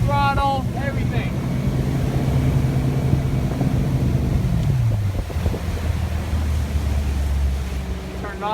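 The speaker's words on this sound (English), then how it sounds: "And I'm gonna hit it. And it will automatically stay at 20 miles an hour. Full throttle, everything." A 2008 MB Sports B52 V23 boat runs at full throttle, its engine roar loud and steady with a pitch that shifts partway through, along with wind buffeting and water noise, and someone talking near the start and end.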